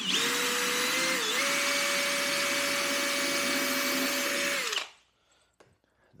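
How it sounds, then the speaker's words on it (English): A battery-powered drill drives a screw with a loud, close whine that holds steady, dips briefly in pitch, then cuts off sharply, leaving a few faint clicks and knocks. "Oh, bottoming out this drill."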